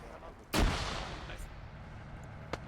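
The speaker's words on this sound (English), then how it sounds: "A lot of grenades getting thrown around." A single heavy grenade blast in a video game, booming close and loud, with a long rumbling tail and a faint distant pop near the end.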